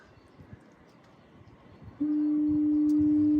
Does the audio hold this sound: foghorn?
yes